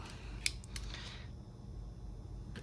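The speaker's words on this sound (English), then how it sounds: "let's cut this open" Scissors snip into plastic blister packaging around a Craftsman 20-volt battery and charger set: a few faint, sharp cuts and crinkles over a quiet background hum.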